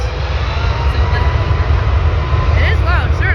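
A WestJet Boeing 737 MAX 8 at Vancouver International Airport roars loudly on takeoff, a dense sustained engine rumble and whine, with voices chattering faintly near the end.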